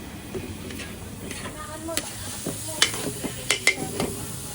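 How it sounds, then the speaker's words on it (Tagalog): Liver sautéing in a pan gives a steady low sizzle, with intermittent clinks and scrapes of a utensil against the pan and faint background chatter at a party. "Ginigisa muna yung atay na yan."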